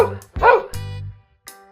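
A puppy gives a few short, high yips and barks close by, with brief pauses in between and no speech around them.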